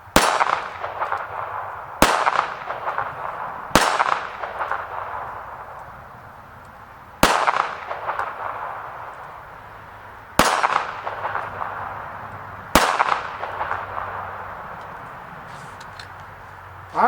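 Six shots from a Taurus Spectrum .380 pistol each ring out as a sharp crack and a clear metallic clang off steel targets at an outdoor range, spaced irregularly one to three seconds apart, with each ring decaying slowly.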